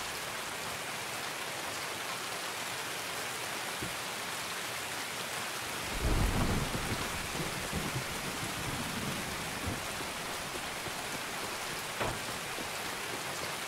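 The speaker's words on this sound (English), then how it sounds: "Oh, that delicious rain." Steady rain hisses throughout in the video game Escape from Tarkov, with a low rumble of thunder swelling midway and a fainter one later. There is no talking.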